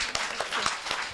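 Applause from an audience at a book event honoring young women, a short burst of scattered claps at moderate loudness.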